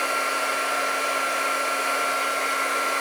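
A heat embossing gun blows steadily while heating a metal die cut held with tweezers, producing an even, loud whirring hum with no breaks.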